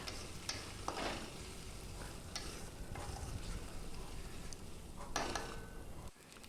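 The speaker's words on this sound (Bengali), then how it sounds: "এবার গ্যাসের ফ্লেমটাকে কমিয়ে দিয়েছি এবার ক্রমাগত নাড়াতে হবে" A spoon scrapes steadily through banana stem paste in a pan over a low flame, a soft continuous stirring with faint sizzle and occasional louder scrapes.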